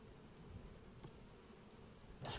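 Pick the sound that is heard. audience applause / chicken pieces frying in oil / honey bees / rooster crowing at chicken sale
honey bees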